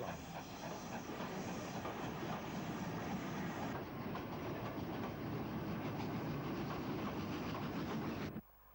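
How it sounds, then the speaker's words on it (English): An LMS Black 5 steam locomotive restarts a passenger train on an incline at Stapleton Road, Bristol, with banking assistance: continuous loud hiss and rumble, rhythmic clatter of wagons, ending abruptly. "a Black 5 restarts from Stapleton Road, where banking assistance was obtained"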